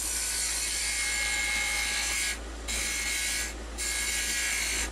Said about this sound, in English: from there I'm going to switch over to my spindle gouge